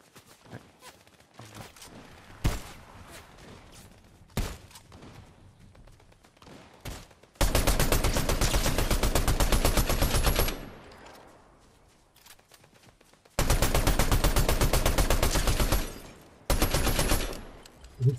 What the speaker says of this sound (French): Allez, on me tire derrière.